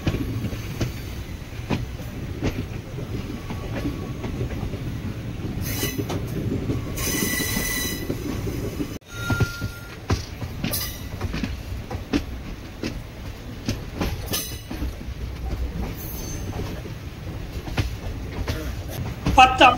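The Mannai Express runs on the tracks between Mannargudi and Chennai Egmore, heard from on board as a loud continuous rumble with rail clatter, bursts of high wheel squeal and brief clanks, with occasional talk faintly underneath.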